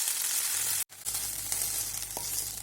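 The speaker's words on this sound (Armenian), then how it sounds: "Այնուհետև տապակում եմ բուսայուղի մեջ շատ արագ և քիչ քանակի" Floured meat pieces fry quickly in a small amount of vegetable oil, with a loud, close sizzle and a brief break before the crackling hiss resumes.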